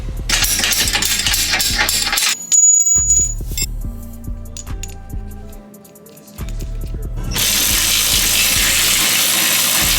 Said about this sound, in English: So this is the 17 for the ball joint, which is the first one that we're going to remove.